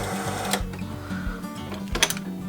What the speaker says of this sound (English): Most of the machines have some kind of automatic way of winding the bobbins.